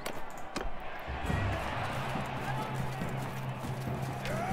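Rhythmic hoofbeats of a galloping horse in the video game Mount and Blade 2, over a steady wash of background noise, with a faint voice murmuring underneath.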